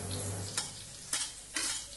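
Chopped onions frying in a pan with cloves for gobi butter masala: a faint steady sizzle, broken by three brief brighter bursts like stirring or onions hitting the oil, close and without speech.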